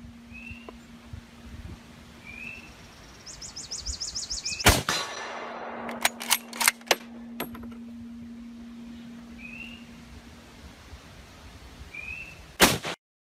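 Several sharp gunshots crack across a quiet outdoor background, a loud one, a quick cluster of shots, then a final loud shot near the end, with faint birdsong between.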